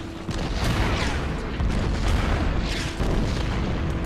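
Booming bomb blasts in a World War II-style war video game, with Stuka dive bombers striking Soviet infantry: several heavy, rumbling detonations roll in over a few seconds, loud and close, with no talk.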